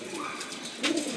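Lakkha pigeons on a rooftop coop give a short, soft, low coo close by, over a faint background murmur.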